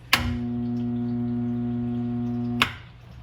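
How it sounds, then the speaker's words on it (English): A jammed kitchen garbage disposal switched on gives a steady electrical hum with strong harmonics, lasting about two and a half seconds between a click at start and a click at stop, close and alone. "I've tried to turn on my garbage disposal"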